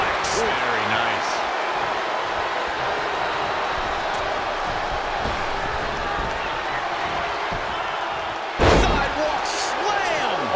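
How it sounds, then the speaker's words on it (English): A sidewalk slam drives a wrestler down onto the ring mat during a title match, landing as one heavy, booming thud near the end over a constant roar of crowd noise. "Sidewalk slam. Almost drove him through the ring."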